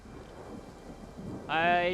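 Steady rain and low rumbling thunder fill a medieval battle in the strategy video game Rise of the Warlords, with a brief tonal, voice-like call rising over the storm near the end.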